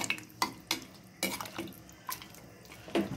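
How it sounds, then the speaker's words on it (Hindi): Coriander powder is stirred into spices in a pot for a desi chicken biryani, heard as a series of sharp scraping clinks of a spoon against metal, spaced irregularly and alone. "ये है धनिया पाउडर, सभी थोड़ा मिक्स कर लेता हूँ।"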